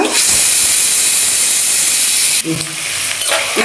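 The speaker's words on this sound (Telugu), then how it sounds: "కొద్దిగా ఆయిల్ వేసుకొని హీట్ అయ్యాక ఇవి లైట్గా ఫ్రై అయ్యాక" Ingredients fry lightly in hot oil in a kadai, a loud, steady, close sizzle and hiss that dips briefly near the end before continuing a little quieter.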